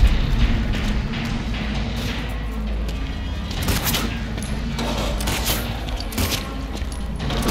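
Gunfire and impacts from the Silent Hill 2 Remake video game, a dense, loud burst of overlapping shots and crashes filling the whole stretch over a steady low rumble of game ambience.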